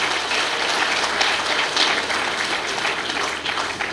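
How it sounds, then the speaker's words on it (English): Loud, dense audience applause at a film carnival, many hands clapping at close range, continuous and even for the whole stretch. "Big round of applause for that."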